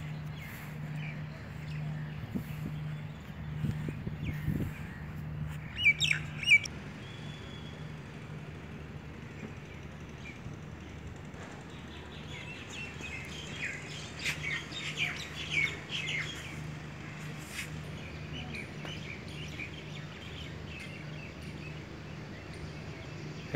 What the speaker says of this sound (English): Chirping of the birds can be heard.